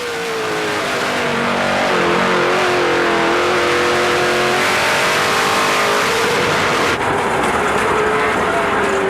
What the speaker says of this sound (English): Things sounded real good downshifting. He was back on the gas and it come apart.